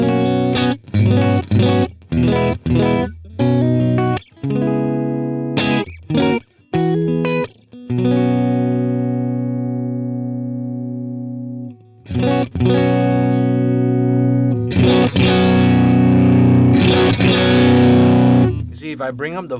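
Electric guitar played through a Neural DSP Quad Cortex US Deluxe amp preset with effects: a run of choppy strummed chords, then long ringing sustained chords with a chorus-like shimmer, loud and close.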